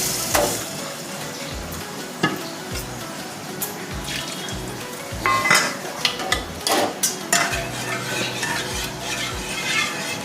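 Lentil stock poured into roasted masala in a Maharashtrian kitchen, a steady sizzle and splash with scraping stirs and occasional clinks of a pot, fairly close and with no talking.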